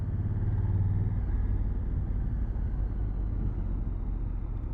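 Brand new Honda CRF1000 Africa Twin DCT motorcycle under way, a steady loud engine drone mixed with wind rumble, continuous throughout with no talk.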